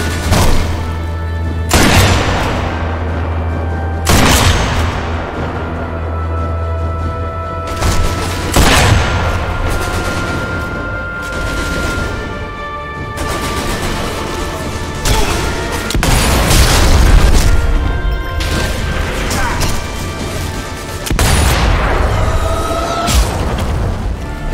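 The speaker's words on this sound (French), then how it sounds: "J'entends les balles." Heavy gunfire and booming impacts in the video game Sniper Elite V2 Remastered, Tiergarten Flak Tower mission: a run of loud, sharp shots and blasts at irregular intervals over a steady low rumble, with no talking.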